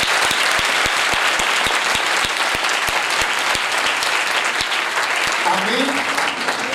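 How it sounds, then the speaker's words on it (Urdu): A church congregation claps together during a pastor's sermon, a dense steady applause held for several seconds, with a voice briefly rising over the clapping near the end. "آپ کی تالیاں بتائیں گے خدا راضی ہے۔"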